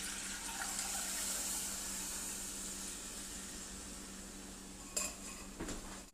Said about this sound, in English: We'll just strain this in here again.